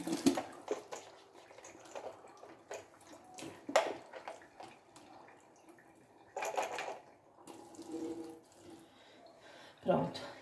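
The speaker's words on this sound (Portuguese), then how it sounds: "Deixa eu passar aqui uma água" Mini food processor parts are rinsed under running tap water in a kitchen, with intermittent splashing and gurgling bursts at close range and pauses between them.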